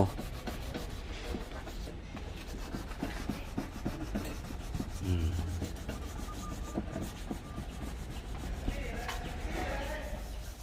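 Rubbing and sanding strokes across deep scratches on a car's front bumper during a bodywork repaint, a steady close scraping texture that runs throughout with a brief low thump midway.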